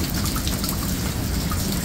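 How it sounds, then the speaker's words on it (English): Steady rain in Long Beach, California, an even, dense hiss of drops falling on surfaces, loud and close, with no voices. "it's rain"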